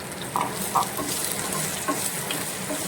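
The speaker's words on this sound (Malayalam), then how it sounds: "നമുക്ക് ഉണക്കമുളക് ഇട്ട് കൊടുക്കാം മുരിങ്ങക്കായയുടെ ഉള്ളിൽ ഇത് മാംസം അതിട്ട് കൊടുത്ത് ഇളക്കാം" Dried chillies and drumstick pulp frying in oil in a pan for a prawn and drumstick stir-fry, with a steady close sizzle and a few soft spoon stirs and taps.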